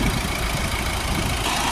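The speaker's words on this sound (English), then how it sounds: "Start the car back up, and I'll hold the trigger again." A car engine idles steadily after being restarted during a DPF fluid cleaning job, a continuous low rumble heard close by with no talk.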